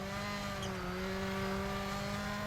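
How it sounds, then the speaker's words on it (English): Rally car on a snowy Swedish stage in the EA WRC video game, its engine holding a loud, steady high-revving drone for a couple of seconds with no voices over it. "I would argue the car sounds better than it did at the start of this rally"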